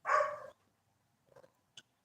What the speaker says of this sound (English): These fucking animals, man. They just started just fucking barking all of a sudden.